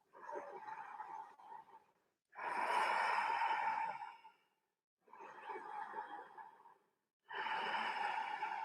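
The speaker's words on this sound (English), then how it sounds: "Three more deep, deep breaths here." Slow, deep breaths during yoga practice, two full inhale-exhale cycles, each breath long and airy, close and soft, with brief silent pauses between, no talking.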